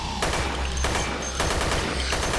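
Gunfire from a gun fired one-handed in the VR shooter Dead Effect 2: four loud, sharp bursts at roughly even intervals about half a second to a second apart, each cracking out against a steady low background rumble, with no talking.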